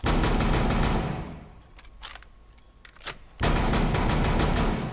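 Rapid, dense gunfire in Rainbow Six Siege, a loud sustained burst that stops, a few isolated shots during a lull, then another sustained burst, with no talk.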